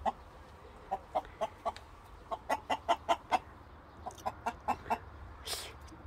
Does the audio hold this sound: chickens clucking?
yes